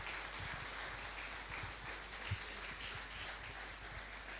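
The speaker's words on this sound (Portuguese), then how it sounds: "Dale un aplauso a Jesús" Faint, steady applause from a congregation at a church sermon, a continuous wash of clapping heard from a distance with no voices over it.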